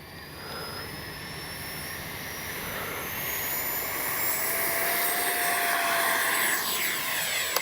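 Freewing F-22 70mm EDF radio-controlled jet taking off, its electric ducted fan giving a steady high whine that swells in loudness as the model accelerates, with no voices.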